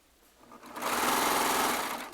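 A serger stitches charm squares together, its motor rising from quiet to a loud, steady high-speed whir that holds for over a second before easing slightly, with no talk.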